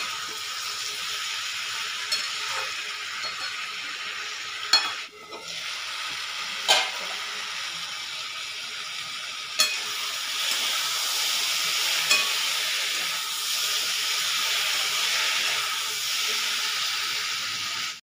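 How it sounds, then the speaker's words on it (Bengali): Spices and vegetables frying in a pan for a rui fish curry: a loud, continuous close sizzle and hiss with a few sharp knocks and scrapes of stirring, no talk. "ফের সবজির সাথে মশলাটাকেও ভেজে নিতে হবে।"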